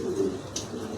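A pair of Lahori pigeons, a dun female and a stencil male, give a low, soft coo up close, with a faint brief chirp partway through and no talking.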